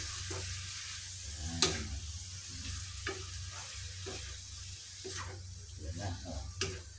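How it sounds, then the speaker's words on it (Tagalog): Egg and sliced bitter gourd (ampalaya) are stirred and scraped in a sizzling pan, with soft frying hiss and irregular utensil clatters and taps close by; no one speaks. "ito po ay halo-haloin natin para yung ating itlog ay kumalat"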